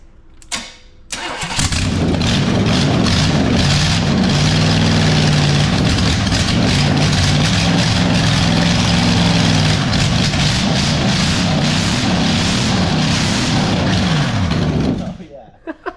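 An old demolition derby car engine with headers cranks briefly, fires up, and settles into a loud, rough, steady idle that runs for about thirteen seconds before cutting off abruptly.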